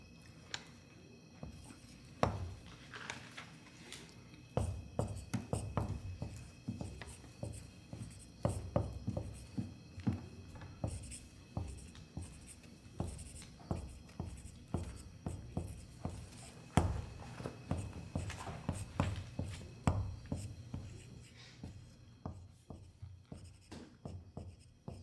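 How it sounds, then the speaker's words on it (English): Handwriting on paper: a continuous run of quiet scratching, tapping pen strokes in an irregular rhythm, close and soft, with no talk. "So let's write a little more here."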